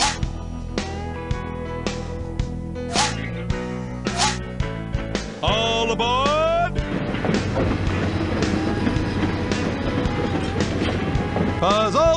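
A train in the Puzzlemania CD-ROM game starts rolling along its tracks, steady clickety-clack and rumble building after a few chimes and a whistle-like tone, loud and continuous, with some speech.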